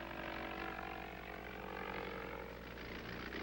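A 1953 light propeller airplane drones steadily in flight, its engine hum and propeller buzz filling the cabin at a constant, moderate level with no talk.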